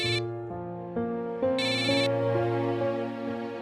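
A phone rings with an incoming call, a melodic electronic ringtone whose notes step along steadily and loudly for several seconds, with no talk over it.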